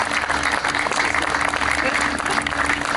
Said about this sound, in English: So if you'd like to give everybody a round of applause.